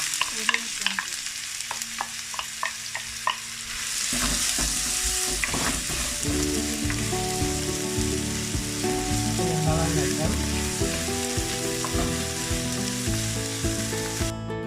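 Chopped onions frying with mustard seeds and fennel in a pan, a steady close sizzle with stirring scrapes and occasional clinks, continuing throughout with no talking.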